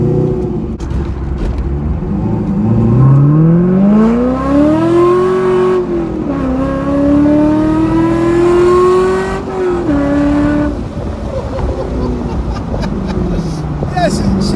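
A 1998 C5 Corvette accelerates hard, its engine note climbing loudly through the gears with a brief shift dip and a long rising pull, while people talk and exclaim over it.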